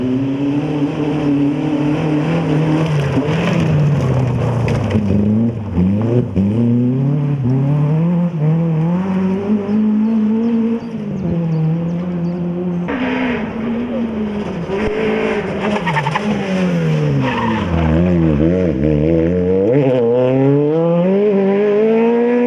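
Rally car engine at the 2015 Trois Ponts rally, roaring loudly and continuously with repeated rising and falling revs through gear changes, close and dominant for the whole stretch, with a voice faintly underneath.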